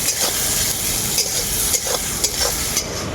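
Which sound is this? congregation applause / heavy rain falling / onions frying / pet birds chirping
onions frying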